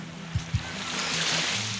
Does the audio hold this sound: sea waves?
yes